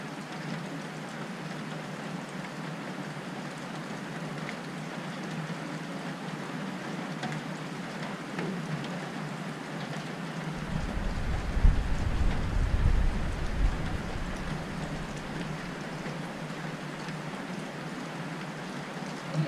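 A rainstorm pours down near a porch in a steady, dense hiss, with a low rumble of thunder rolling in partway through and fading back into the constant patter.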